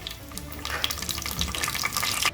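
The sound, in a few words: curry leaves frying in oil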